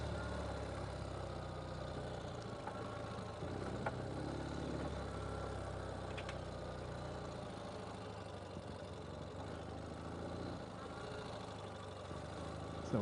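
A Ural sidecar motorcycle engine runs steadily on a dirt track, a continuous low rumble that stays fairly even throughout and ends with a brief rise at the close.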